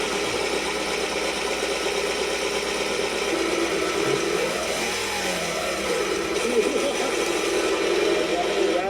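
A car engine runs steadily with a loose ignition coil bolt rattling, giving a continuous mid-pitched mechanical clatter at fairly even loudness throughout.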